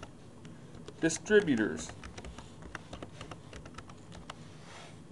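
Someone types a search on a computer keyboard, a brief flurry of soft clicking keystrokes with quieter scattered taps afterward, under a voice.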